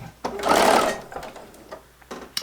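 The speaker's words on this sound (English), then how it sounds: "I'm just going to give it a couple of stitches to hold it down." A sewing machine stitches quilt fabric made from scraps in a short, close burst of rapid mechanical whirring, then stops, leaving a few faint clicks and handling sounds afterward.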